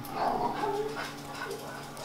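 Dogs whimper and yip softly in the background, with a few muffled barks mixed among the whines.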